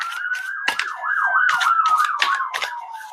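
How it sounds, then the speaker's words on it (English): A wailing emergency siren sweeps up and down outdoors around five in the morning, clear and steady against a quiet background, with a few sharp bird-like chirps cutting across it. "Do y'all hear these sirens?"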